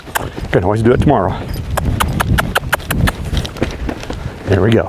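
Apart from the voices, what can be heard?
hooves of Arabian filly under saddle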